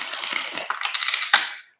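Tarot cards riffled in a rapid, crisp shuffle for a bit under two seconds, a dense run of flicking and rustling that ends with a sharp snap and then goes quiet, with nobody speaking over it.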